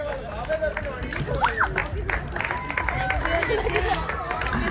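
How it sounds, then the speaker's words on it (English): Audience clapping at the closing ceremony of a volleyball and throwball league, a steady patter of hands from a crowd indoors with background chatter and murmuring voices throughout. "Claps, please."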